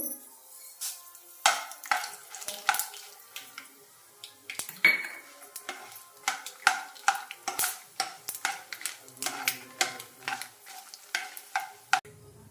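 Fenugreek and mustard seeds tossed into a hot pan with the stove just switched off, giving light crackling and frequent sharp clinks of a spoon against the metal pan, stirred steadily and heard close up with no talking.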